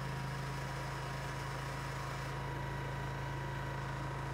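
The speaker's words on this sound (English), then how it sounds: "Press the engine start button to turn the unit on." A remote-controlled Elite Soldier machine engine runs at a steady idle, a constant low drone that holds even and loud throughout with no breaks.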